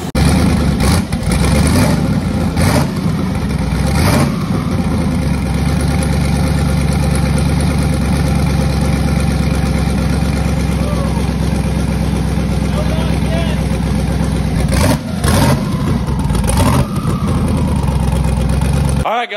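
A car engine freshly rebuilt with Texas Speed forged internals idles loud and close with a rough, lumpy note, throwing sharp revs near the start and again toward the end before it cuts off abruptly.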